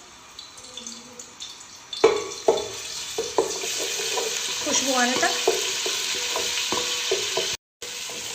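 Garlic and ginger, a tablespoon each, sautéing in about half a cup of hot oil in a pan, steady sizzling with clinks of stirring, close, under a brief spoken line.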